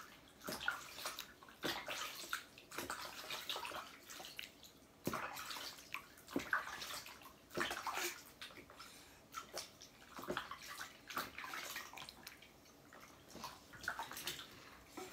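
Water splashes and trickles while a four-month-old baby is rinsed in the bath, with soft irregular pours and drips that are close but fairly quiet.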